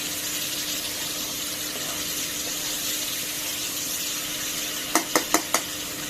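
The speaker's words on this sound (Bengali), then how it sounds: "মশলা তেল মশলা দিকে ভেজে নিলাম আলু আর বেগুন" Potatoes and eggplant fry in spiced oil with a steady, even sizzle, followed near the end by four quick sharp clicks, like a utensil tapping the pan.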